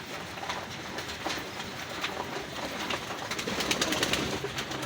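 Racing pigeons in a loft give soft, repeated coos and wing flutters, faint and close against a low background hum, with no talk.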